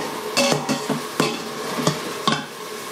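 Onions frying in a pan until translucent give a soft, steady sizzle with a few sharper crackles and scrapes standing out at intervals, close by and with no talking.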